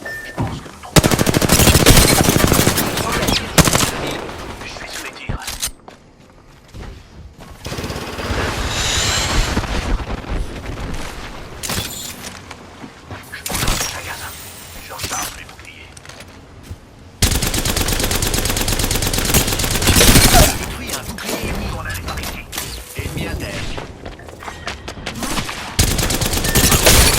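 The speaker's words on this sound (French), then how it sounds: "Je suis sous les tirs." Rapid automatic gunfire in the Apex Legends video game, loud bursts of shots with pauses between volleys and wind-like game ambience, with no talk.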